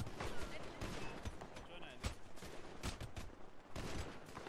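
Rapid gunfire in an e-sports shooter match, sharp bursts and volleys crackling throughout, loud and dense, with players talking excitedly over the shots.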